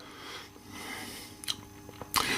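Crisp, sharp crunches from biting into a crunchy chip, a few scattered bites close to the ear over a low background hiss.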